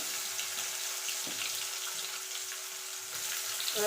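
Finely chopped medium onion fries in oil for a cauliflower, egg and potato curry, giving a soft, even sizzling hiss with faint occasional stirring clicks.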